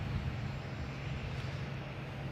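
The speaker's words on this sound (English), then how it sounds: "And we have Delta taking off to West Palm Beach." A Delta Boeing 757 taking off at Boston Logan, a steady broadband engine roar with a low rumble, loud and continuous throughout with no voices.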